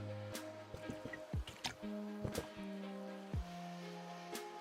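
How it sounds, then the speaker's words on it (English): Sips and swallows of fancy bottled water, quiet and close, a few soft wet gulps and drips scattered over a faint steady tonal hum in the background. "I'm drinking my fancy water today."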